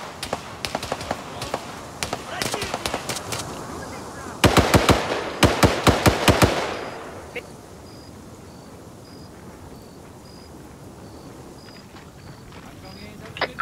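Gunfire in the Arma 3 video game: bursts of rapid automatic shots that are loud and close, grow heavier in the middle, then fade to quiet ambience with a few scattered later pops.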